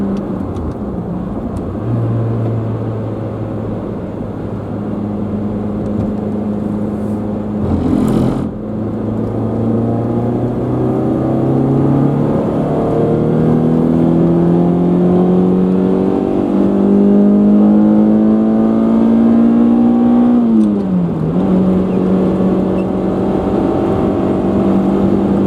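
Steady drone of a budget car cruising on Interstate 75 on a long road trip, engine and tyre hum filling the cabin, with tones slowly rising and dipping as the car speeds up and eases off. No one talks.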